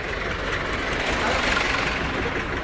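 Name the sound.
tractor engine idling at a tractor market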